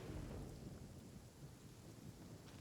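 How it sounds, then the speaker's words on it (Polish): Thunder rumbling nearby during a storm in the video game Genshin Impact, a steady heavy low roar mixed with rain noise, fairly quiet and continuous with no voices. "Co to za pioruny?"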